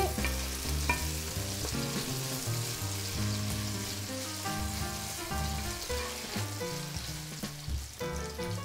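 Potatoes and artichokes frying in oil in a pan, a steady, close, loud crackling sizzle that runs throughout with no talking.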